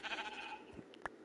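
A sheep in the Minecraft video game bleats once near the end of a short stretch, a brief clear call over low game ambience and faint background sound.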